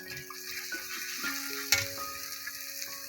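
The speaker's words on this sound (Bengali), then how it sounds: "মাংসের মশলা তো একটু ভাজতে হবে বেশি কিনা" Meat spice masala frying in a pan with turmeric in a village kitchen, a steady broadband sizzle under occasional clinks and a sharp tap partway through, with no talk.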